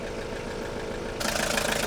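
A BMW car engine idles steadily, a low even rumble that grows louder and brighter for the final stretch as the sound opens up.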